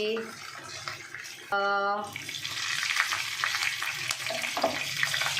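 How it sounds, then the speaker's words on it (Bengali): Panch phoron, black cumin and garlic fry in hot oil while being stirred, a steady close sizzle with scraping stir sounds throughout, briefly interrupted by a short tonal beep. "পাঁচফোড়ন, কালো জিরে, রসুন দিয়ে একটু হালকা নাড়াচাড়া করে নেব"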